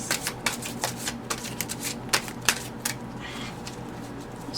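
Tarot cards are shuffled by hand in a reading, a run of crisp, irregular riffling snaps and flicks close up, with no talk.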